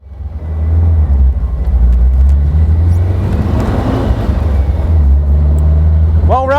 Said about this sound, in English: we're out on a crisp autumn day, 356 Speedster, driving through the hood